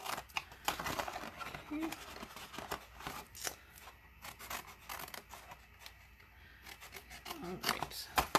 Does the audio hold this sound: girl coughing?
no